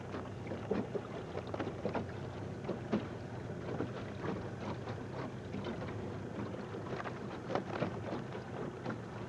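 Steady motorboat engine rumble on a lake near Eutawville, South Carolina, with water slapping against the hull and wind buffeting the microphone, continuous and moderately loud.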